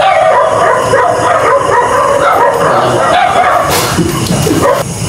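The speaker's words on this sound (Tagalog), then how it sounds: "bigla na lang nagtahulan ang mga aso" Several dogs bark and yip loudly and continuously at night, close by, with a faint voice under the barking.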